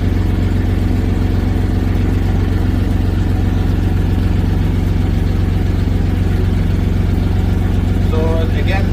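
A ship's lifeboat engine idles steadily, a loud, constant low mechanical drone with a regular throb that holds unchanged from start to finish, with a faint brief higher sound near the end.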